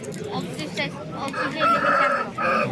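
A rooster crows loudly and close by at the Qumtepa poultry market in Fergana, Uzbekistan, with other chicken clucks and a busy market murmur around it.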